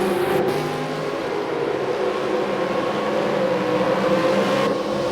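A race car on the final straight of a circuit, its engine a steady, sustained drone heard at a distance with no break in loudness.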